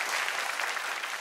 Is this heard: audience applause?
yes